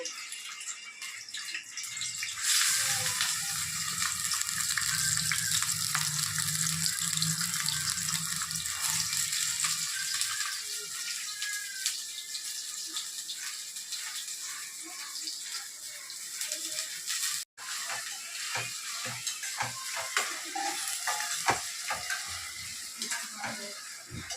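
Onions hit hot oil for chicken curry, setting off a loud, steady sizzle and crackle that runs throughout, with occasional stirring scrapes and clatters near the end.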